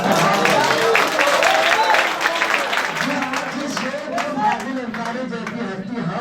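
Audience at a mushaira poetry recital in Bhiwandi breaking into applause, a dense, steady wash of clapping and crowd noise mixed with voices throughout.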